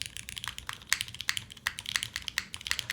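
Rapid clacky keystrokes on a high-end mechanical keyboard with long-pole switches and a palm plate, irregular quick taps close to the mic at a fairly soft level, with no talking.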